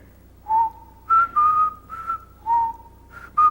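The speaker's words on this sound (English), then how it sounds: "He's in a haunted house, and he's just whistling." A video game character whistles alone in a haunted house, a short tune of sustained notes rising and falling in separate phrases, clear and close with no talking.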